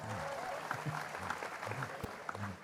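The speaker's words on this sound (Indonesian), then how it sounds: "Tepuk tangan buat semuanya" A crowd at a religious talk event claps together in brief, moderately faint applause, heard in the distance under some speech.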